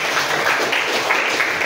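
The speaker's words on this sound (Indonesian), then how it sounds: "Oke, tepuk tangan untuk kakaknya." A classroom audience claps for a presenter during a teaching session, a steady burst of dense, continuous applause lasting under two seconds with no talk over it.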